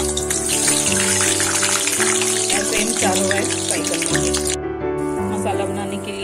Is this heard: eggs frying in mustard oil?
yes